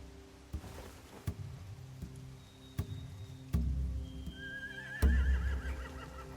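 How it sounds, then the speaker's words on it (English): Horses neigh in The Walking Dead: The Final Season game, stabled near hay and torches. A rising, wavering whinny rings out clearly near the end over a quiet ambient bed with a few soft thuds. "They have horses."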